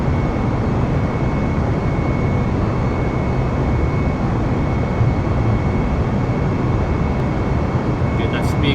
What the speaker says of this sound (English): Hit full throttle and take off from Miami and head up north to Jacksonville.